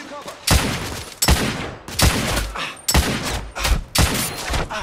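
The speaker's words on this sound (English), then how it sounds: "I'm taking suppressing fire" Heavy gunfire in The Order: 1886, loud bursts of rapid shots arriving in four or five separate volleys with brief gaps between them, close and dominant.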